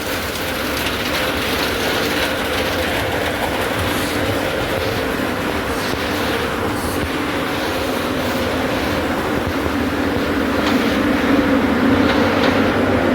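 A Kochi Water Metro boat's engine gives a loud, steady mechanical drone that fills the whole stretch at close range while passengers board, with no talk over it.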